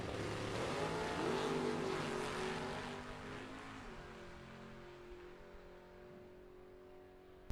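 A drag race car in Super Pro Box/No Box bracket racing roars down the track, loud and broad at first, then gradually receding and thinning into the distance, ending with a sharp click.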